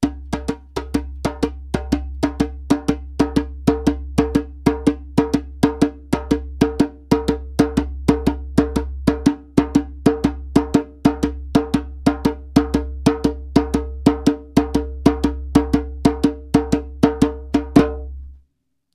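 A hand drum plays a steady, fast basic train-style strumming pattern, with evenly repeating sharp slaps and accented beats over a low sustained hum. The playing is close and continuous for the whole stretch, then stops abruptly.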